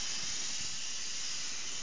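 Aerosol activator for a carbon-pattern hydrographic print sprays in one short, steady, faint hiss.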